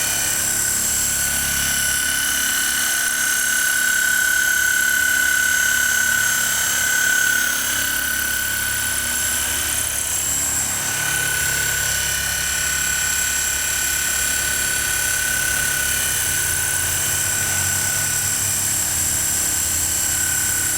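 An SX2 coaxial RC helicopter flies on a windy day, its rotors giving a steady, high-pitched whine that holds level for about twenty seconds, with wind and motor hum underneath and no talk.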